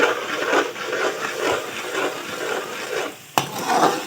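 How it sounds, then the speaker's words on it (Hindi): Masala for beef kofta curry being stirred as it fries in ghee, a continuous close scraping and sizzling stir with a sharp knock near the end, no voices. "ये देखें मसाला हमारा जो है भुनाई की तरफ आ रहा है।"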